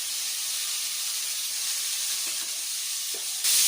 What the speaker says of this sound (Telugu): ఇప్పుడు ఇవి కూడా ఆయిల్ వేసుకొని మగ్గించుకున్నాము